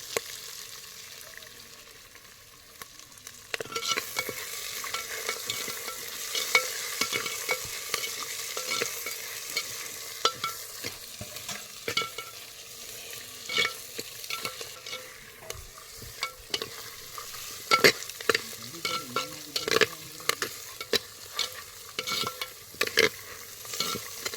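Tamarind and other ingredients for pirandai chutney sizzle steadily in a pan while a spoon stirs and scrapes in frequent close clacks, continuous throughout with no talking.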